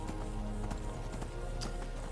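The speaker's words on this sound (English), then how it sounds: "we're just going to put the heels to the horse's flanks, so to speak, and make a break for it" Horse galloping in the video game Skyrim, a steady rapid clip-clop of hooves in a regular rhythm, fairly close but moderately quiet, with faint talk underneath.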